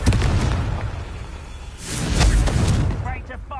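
A Confringo fire-blast spell from the video game Hogwarts Legacy erupts as a loud, full booming burst with a whooshing roar that swells again midway and then fades.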